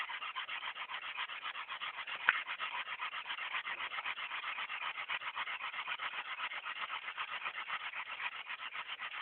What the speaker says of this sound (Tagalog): Fire saw. Fire starter.